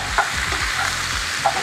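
Ground meat for homemade tacos sizzles in a hot pan while a utensil scrapes and stirs through it, a steady crackling hiss with a few quick scrapes.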